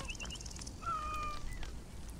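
Cats meowing in Assassin's Creed Origins, a few short high mewls followed by a longer, clearer meow near the listener over a low game-ambience rumble, with no talking.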